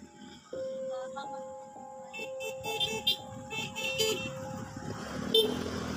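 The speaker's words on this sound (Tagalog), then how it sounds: "maraming bumubusina" Car horns honk repeatedly on a busy highway, one long steady blare joined by several shorter toots, with traffic rumbling and faint voices underneath.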